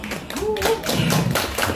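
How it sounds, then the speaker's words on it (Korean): Festival crowd at an oyster festival performance stage in Cheonbuk harbor claps briefly, a short burst of hand claps mixed with nearby chatter and voices. "박수 한 번만 주세요"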